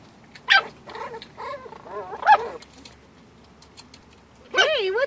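Puppies whine and whimper in high, wavering cries, with short quieter stretches and a louder whine at the end, close by.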